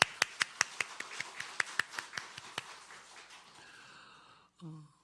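Congregation clapping during a Thanksgiving Sunday church service: a quiet, steady run of about a dozen evenly spaced claps that fade out, followed by a brief low rustle.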